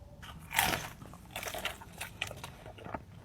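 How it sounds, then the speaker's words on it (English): Biting into a crunchy Taco Bell chicken chalupa with a crusted shell: a loud close crunch, then several more crackling bites and chewing crunches in an uneven rhythm. "Yo, I did not expect that crunch"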